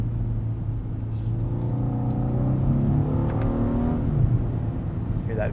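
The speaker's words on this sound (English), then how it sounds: "Hear that V6 kind of purr away in the background." A 2023 Genesis G90 3.5T e-SC with a V6 engine in sport mode hums steadily from inside the cabin, then the engine note swells in a smooth rising rev before settling again, moderately loud, with a voice talking over it.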